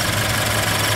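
A 2013 Subaru BRZ Limited's 2-liter direct-injected, non-turbo flat-four boxer engine idles steadily and fairly quietly up close, with a faint continuous ticking in its low hum.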